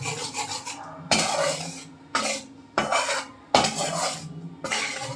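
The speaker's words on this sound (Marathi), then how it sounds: "त्याला छान ब्राऊन कलर येईपर्यंत आपण असं ढवळणार आहोत" Wheat flour sheera stirred in a pan, with repeated scraping strokes of a spoon against the metal, about six rhythmic rasping passes, close and clear with no talk.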